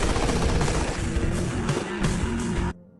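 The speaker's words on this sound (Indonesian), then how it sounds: "Suruli langsung memberondong peluru ke arah anak buah Peter." Machine gun fire in an Indian gangster action film, a loud, dense continuous burst of rapid shots lasting nearly three seconds before cutting off abruptly.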